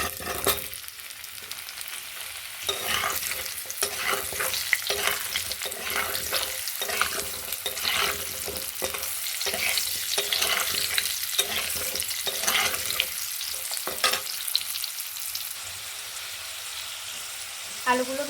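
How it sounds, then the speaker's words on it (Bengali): Potatoes frying in a kadai with panch phoron after cauliflower, a continuous bright sizzle with regular scraping stirs of a spatula, close and fairly loud. "কড়াইয়ে পাঁচ ফোড়ন দিয়ে দিয়েছি এবার আলুগুলো তুলে দেবো"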